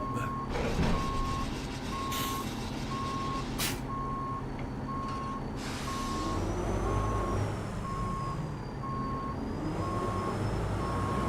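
Steady electronic reversing beeps from a truck backing up at night in American Truck Simulator, a regular beep-beep over a constant diesel engine rumble, with a brief whistling tone partway through.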